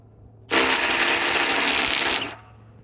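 A new Bosch power tool whirs at full speed for about two seconds, a loud steady motor whine that starts and stops abruptly against a quiet hum.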